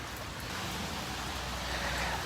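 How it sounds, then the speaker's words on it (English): Steady rain falling outdoors on a very wet day, a constant broadband hiss of drops with no breaks, fairly close and even in level throughout. "I'm standing here on a very wet day, because I'm getting rained on"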